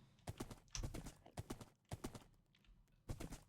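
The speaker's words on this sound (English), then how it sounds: "I have a horse now." Horse hooves clip-clop in Minecraft in uneven bursts of several quick taps, each group loud and close, with short pauses between them and no talking.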